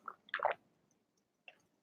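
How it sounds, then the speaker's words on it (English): A person takes a sip of water, a few soft close wet slurping and swallowing sounds in a quiet room, with a brief faint click after a pause. "Let me take a sip of water here."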